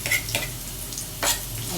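Onions being stirred in a frying pan, with a few short scraping strokes over a soft, steady sizzle, close and moderately loud.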